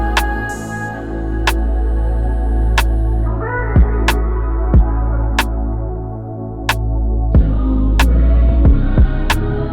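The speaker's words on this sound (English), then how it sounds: "I ended up adding another sound, and that sound was just this open hat" A sampled soul beat with piano and a deep bass repeats, accented by an open hi-hat hitting sharply in a regular pattern roughly once per second, with bass drops sliding underneath.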